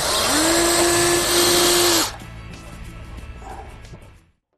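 A power drill bores 3.5 mm screw holes on a boat to mount a CTEK charger: a loud, steady motor whine for about two seconds, then quieter handling noise before fading out.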